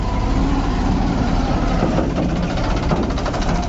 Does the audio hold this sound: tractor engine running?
yes